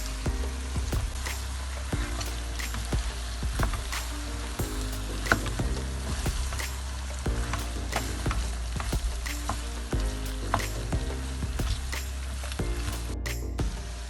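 Meat for a Mersin-style kebab sizzles and crackles steadily in a pan while being stirred, with occasional scraping clicks of the utensil over a constant frying hiss, with no talking.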